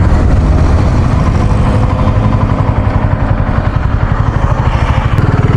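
A BSA Gold Star 650 motorcycle is ridden with a loud, steady, pulsing engine drone heard up close. The bike has a known misfire around 5,000 to 6,000 RPM.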